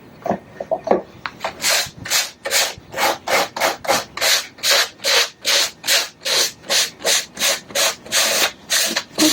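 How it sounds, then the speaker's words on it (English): Sandpaper of medium grain rubs back and forth over a wooden box in a steady rhythm of close, loud rasping strokes, about two per second, with no voices. "using the same medium grain sandpaper"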